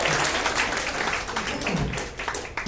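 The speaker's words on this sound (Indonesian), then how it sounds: "Oke, tepuk tangan dong." Loud applause from a motivational-event crowd, close and dense, with a low voice briefly audible underneath partway through before the clapping thins slightly toward the end.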